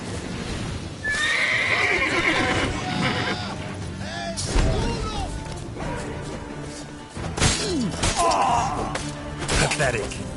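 Roach the horse in The Witcher 3 neighs and whinnies several times, mixed with clip-clopping hooves and thuds in a busy game scene, loud and near, with voices talking at points.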